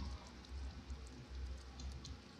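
Rain in The Sims 4 Island Living beach setting, a soft continuous patter of drops on surfaces with faint scattered ticks, fairly quiet and steady with no talk.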